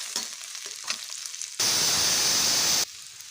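Sliced onions and two green chillies hit hot oil in a pan, a sharp loud sizzle that bursts in midway and holds steady for over a second, framed by softer clinks and quieter cooking noise before and after.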